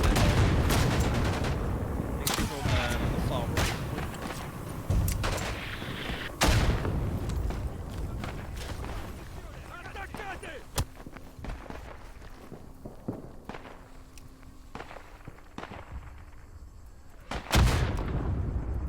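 Strafing-run gunfire in the World War One shooter Isonzo: a dense, close barrage of shots and thuds that thins toward the end, with a final heavy blast.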